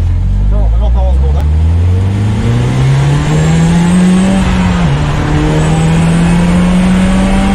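A loud Secma F16 Turbo GT engine pulling away in second gear, its pitch climbing steadily as it accelerates, with a brief dip before rising again and voices underneath.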